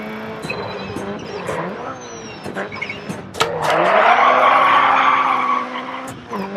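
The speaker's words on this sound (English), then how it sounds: "the best application for a handbrake turn is usually on tight corners on tarmac" A Subaru Impreza WRC2001 rally car in the DiRT 4 video game throws a handbrake turn on tarmac. The engine revs under a loud, sustained tire skid, and a voice is heard briefly.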